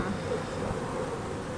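Honeybees buzz around an opened beehive during a spring hive check, a soft, steady, close hum that runs evenly through the whole moment.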